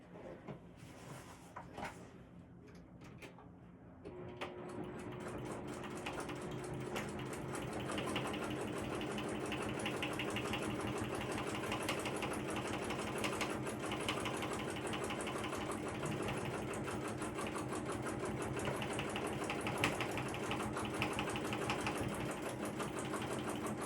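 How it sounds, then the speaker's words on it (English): Close, steady run of a sewing machine topstitching the seams of a crossbody bag, a few handling clicks at first, then continuous even whirring and needle chatter for about twenty seconds with no talking. "go ahead and top stitch"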